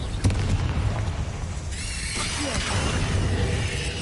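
A Confringo blasting-spell explosion in the game Hogwarts Legacy: a loud, broad roaring blast that fills the whole clip, with a sharp crack near the start and crackling, shattering debris layered over a continuous rumble.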